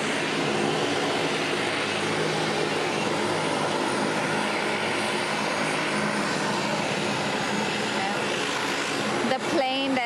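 A Royal Australian Air Force C-27J taxis down an airport runway toward waiting fire trucks, giving a steady, loud, broad engine drone that fills the whole stretch, with a brief whine near the end and faint voices underneath.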